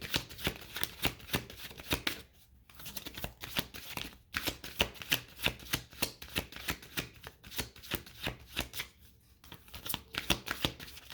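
Oracle card deck shuffled by hand: repeated crisp riffling bursts in quick runs with brief pauses between them, close and fairly quiet, with no talking.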